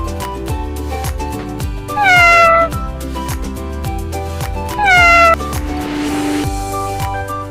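Two clear cat meows, each a rising then falling cry, sound over a bouncy nursery-rhyme tune for children, standing out loudly above the steady music.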